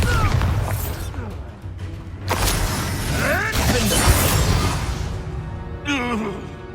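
Bombarda spell blasts in Hogwarts Legacy gameplay: booming bursts and crackling impacts over a dense rumbling mix of combat noise, with a sharp burst near the middle and chirping magical effects toward the end.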